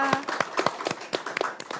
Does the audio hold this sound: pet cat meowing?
no